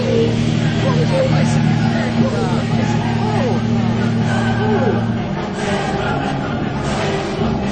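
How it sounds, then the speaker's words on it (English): A car drives around a 40-foot-high loop-the-loop at a stunt event, its engine droning steadily with rising and falling revs beneath a babble of crowd voices and people talking. "drive a car around a 40-foot high loop the loop"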